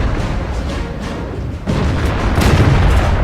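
A heavy KV-1S tank cannon boom in World of Tanks lands midway through a rumbling, noisy background, followed by a sharp crack and lingering low rumble.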